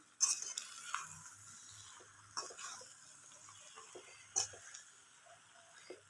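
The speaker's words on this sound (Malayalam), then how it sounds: "നന്നായിട്ട് മിക്സ് ചെയ്തെടുക്കാം" Rice being stirred and mixed in a pan over a low flame, with soft scraping and a gentle sizzle, punctuated by a few sharper spoon knocks against the pan.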